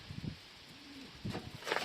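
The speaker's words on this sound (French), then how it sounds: "Donc ça roucoule, ça roucoule." Soft, low coos from Strasser pigeons rise and fall in a few short bursts, fairly close, with faint rustling and background noise around them.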